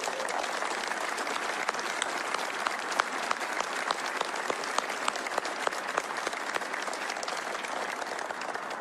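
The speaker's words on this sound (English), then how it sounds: "I'd like to take a moment and ask that all of you give them a round of applause." Steady applause from an audience honoring a NASA team at a supersonic aircraft presentation, dense and continuous clapping at moderate distance throughout, without speech.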